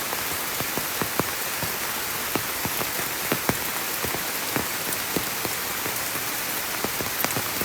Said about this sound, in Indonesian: Ini sumpah hujan guys